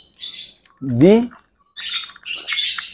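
A white-rumped shama (murai batu) gives a short rising squawky call, near and loud, set between bursts of high twittering and brief speech.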